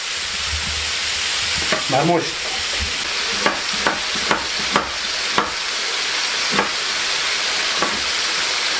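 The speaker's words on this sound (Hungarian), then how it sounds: "ahogy sül ez a dolog" Burrito filling frying in a pan, a steady sizzle beneath scattered sharp clicks and scrapes of stirring, while people talk briefly over it.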